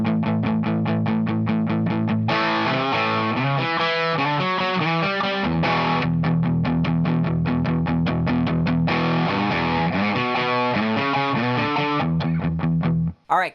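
Distorted electric guitar plays a riff in A, a chugging rhythm of choppy, muted strikes broken by longer ringing chords, loud and close with no voices, cutting off abruptly at the end.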